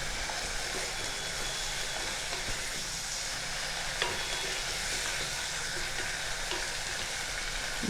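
Mustard greens with a slit green chilli are stirred in a hot pan, a steady, dense sizzle of frying with faint scrapes of the spatula running through it the whole time, close and even.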